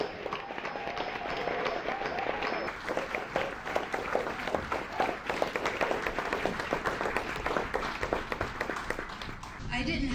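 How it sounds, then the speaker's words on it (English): An audience at a NOFA New Hampshire 50th anniversary gathering at Colby Hill Inn applauds for Nikki, a steady wash of clapping that runs nearly the whole time and fades out at the very end. "So if everybody could just give her a round of applause."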